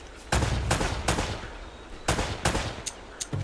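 Gunfire in Uncharted: Drake's Fortune cracks out in loud, close shots, a few spaced blasts then a tighter cluster and smaller trailing pops, standing alone with no talking.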